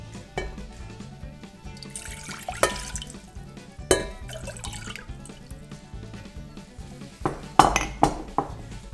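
Water and plant milk poured into a cooking pot in a home kitchen while children make pumpkin-pie oatmeal, with liquid splashing and pot clinks, steady over a low hum and stronger pours near the end.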